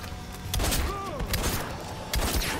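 A Mortal Kombat 11 fighter fires off bursts of video-game gunfire, loud and close. The clipped, booming shots are layered with punchy impact effects across a short, busy exchange.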